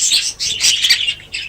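A young budgie chick in a breeding aviary gives loud, raspy begging squawks in quick bursts of four or five, close by with no talking.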